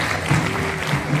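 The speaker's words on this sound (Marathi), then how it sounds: "जरा जोरदार टाळ्या काढण्यासाठी" Audience applause at a stage event, a steady wash of clapping at moderate level, brief and without talk over it.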